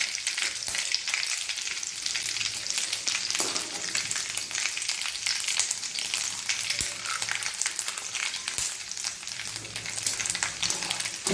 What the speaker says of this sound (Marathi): साबुदाणा तळून असा झालेला आहे.